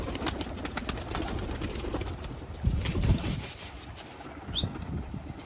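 Outdoors in strong wind, tumbler pigeons give low cooing calls with occasional flutters of wings, amid gusty rumble and a brief higher chirp near the end.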